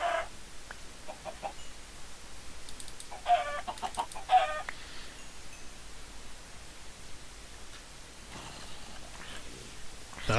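Minecraft chickens give a few short, faint clucks over a soft steady hiss, scattered irregularly across the clip with quiet stretches in between.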